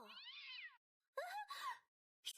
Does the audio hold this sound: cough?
no